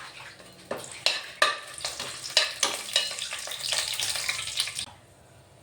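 Cinnamon sticks, cardamom pods and cloves crackle and sizzle in hot oil for a mushroom biryani, with a run of sharp, close pops and spatters that settle into a steady hiss before the sound drops away near the end.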